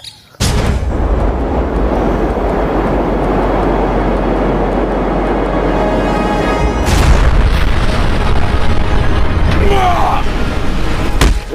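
A toy superhero car, Hulk versus Captain America, plays gunfire and explosion effects. A loud, sustained rumbling boom carries sharp bursts of noise and keeps going almost without a break.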